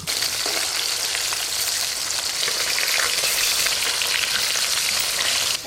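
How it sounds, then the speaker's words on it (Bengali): Pieces of desi catla fish frying in hot oil make a loud, dense, continuous sizzle that stays even and close throughout, with no voices. "এদিকে মাছগুলো ভালো করে ভাজা হতে হতে"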